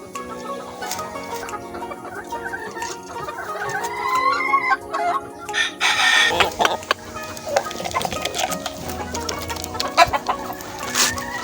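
Chickens clucking busily and close as they eat, with pecking and scattered squawks, a rooster calling now and then; the activity grows busier partway through.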